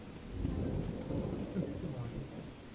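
Thunder and lightning strike during heavy rain in the survival game Miscreated: a steady, dense rain roar with a deep rumbling thunder swell that stays loud throughout, no voices.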